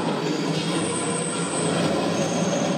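A subway train rolling past, a continuous rumbling wash of wheel and rail noise with a faint high squeal, steady and fairly near, no talking.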